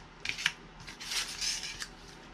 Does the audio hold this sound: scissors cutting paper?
yes